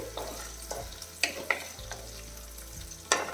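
Chopped ginger, garlic and green chili sauté in oil for a Kerala fish curry, a soft steady sizzle broken by a few sharp spoon taps against the pan, heard close with no talk.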